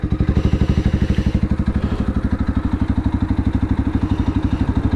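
Motorstar Z200X motorcycle fitted with a silencer idles close by, its engine putting out a loud, rapid, even chugging pulse with a faint clattery edge that holds steady throughout.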